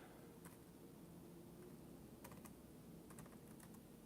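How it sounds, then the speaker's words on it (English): Sparse keystrokes on a computer keyboard, a few faint clicks and short bursts of typing over a quiet background hiss with no talk. "So let's type in some"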